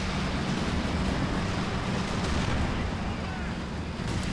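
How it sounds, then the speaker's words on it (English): White phosphorus artillery landing in the game Company of Heroes 2, a dense, continuous rumbling roar of bursts and crackle that stays loud and steady throughout. "White phosphorus being deployed there."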